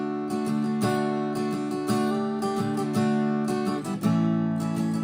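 An acoustic guitar plays the verse of a song, a clear, close sequence of strummed and picked chords in a steady rhythm with no voice.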